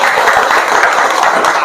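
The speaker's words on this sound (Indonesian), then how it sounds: "tepuk tangan untuk kita semuanya" Audience applause, loud and close, a brief burst of dense clapping from a crowd at a public gathering.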